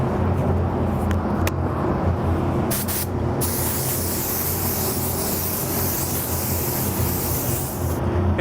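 Pearl flake clear coat sprayed from a paint gun onto a Hot Rod Sparkle White buoy, a steady loud hiss that holds for the whole stretch with only short breaks in the spray.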